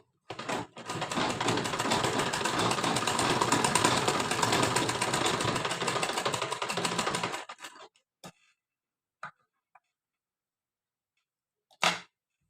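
A sewing machine stitches a lehenga blouse in a continuous, rapid mechanical run lasting several seconds, fairly close, then stops, leaving a few isolated clicks and taps.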